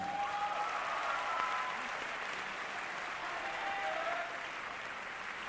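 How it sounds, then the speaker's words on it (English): Loud applause for the dance crews of all 18 halls at the NTU HOCC 2017 show at Odyssey, a thick wash of clapping with a few whistles and cheers, strong at first and easing slightly toward the end. "to all 18 halls, can we hear a round of applause"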